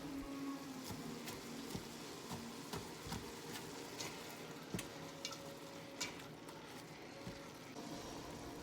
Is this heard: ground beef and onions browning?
yes